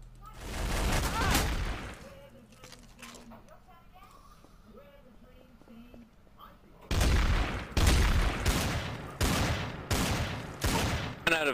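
Trouble in Terrorist Town gunfire comes as a loud burst of rapid shots at the start, then a lull with quieter game sounds, then a second round of heavy, closely spaced gunshots. Voices talk beneath the shooting.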